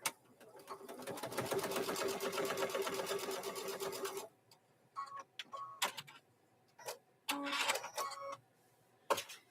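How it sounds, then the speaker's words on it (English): A sewing machine stitches across the corner of a fabric microwave bowl koozie, a rapid close rattling run of about four seconds, then short bursts and clicks as the stitching stops and starts. "Just stitch across the corner here."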